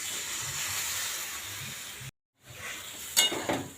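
Water goes into a hot pan while a Bengali poi greens ghonto cooks, giving a steady broad sizzle and hiss that cuts out briefly, then returns with clinks of stirring.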